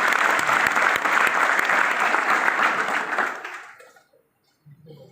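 An audience at a gathering claps in loud, sustained applause that fades out over the final second, leaving near silence.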